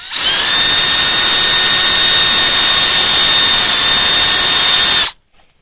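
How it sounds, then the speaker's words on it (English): A power drill drills out a hole in a push mower part, giving a loud, steady high-pitched whine close up that runs unbroken for about five seconds and then cuts off abruptly. "So then we're going to drill out the hole."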